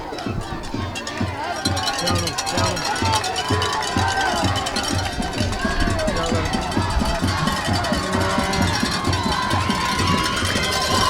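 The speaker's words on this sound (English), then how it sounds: "Crowd noise is crazy." Crowd at a high school football game between Muleshoe and River Road, a steady loud roar of voices with rhythmic thumping and cheering throughout, under an announcer's running commentary.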